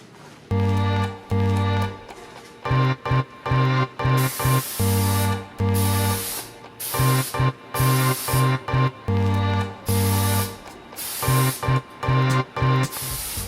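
Red filter oil sprayed from an aerosol can onto a cleaned engine air filter, a series of loud hissing bursts of varying length in an irregular rhythm, close to the can.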